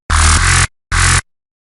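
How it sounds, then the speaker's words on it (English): Gritty Native Instruments Massive synth bass with no notch filter, played as two loud bursts, one longer note and one short hit, with silence after. "So this is without the notch filter"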